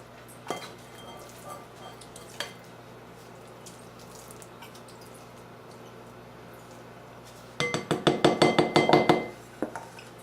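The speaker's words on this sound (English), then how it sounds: "I'm going to mix in the pumpkin puree" A fork stirs pumpkin puree in a bowl for pumpkin pie filling, giving a quick run of scraping, clinking strokes near the end after mostly quiet, with a couple of faint taps earlier.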